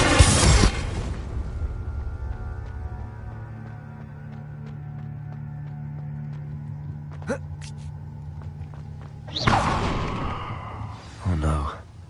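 A Confringo fire-blast spell in Hogwarts Legacy, a sudden burst at the start followed by a low rumbling tail, with sharp whooshing impacts and crackling blasts returning near the end.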